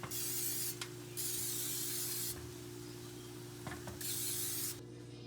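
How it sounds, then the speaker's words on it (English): Olive oil nonstick cooking spray misted over sweet potatoes in three long hissing bursts with short pauses between, close and clear with no talking. "we're going to take our olive oil nonstick cooking spray and just spray our sweet potatoes"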